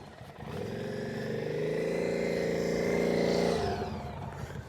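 A Harley-Davidson motorcycle engine revs up during a slow-speed rider training session, climbing to a sustained, fairly close throttle drone for a few seconds before dropping back to idle.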